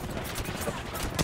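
Rapid gunfire in the battle royale game Apex Legends, a dense continuous rattle of shots over roughly a second, fairly loud and close with no clear pauses.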